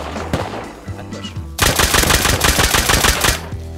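Rapid automatic gunfire in the survival game Rust, a dense burst of loud cracking shots erupting midway after scattered single shots, close and dominating the mix.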